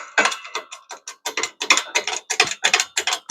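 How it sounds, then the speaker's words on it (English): A hand ratchet turning a big socket clicks in rapid, steady runs of close, crisp pawl ticks, with no talking. "Now we'll use this big socket."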